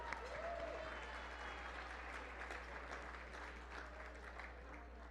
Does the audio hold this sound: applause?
yes